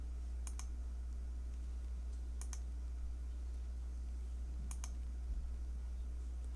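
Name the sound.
mouse clicking in computer software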